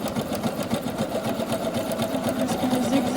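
A sewing machine stitches a seam with a steady, close, rhythmic mechanical hum and needle chatter running throughout without pause.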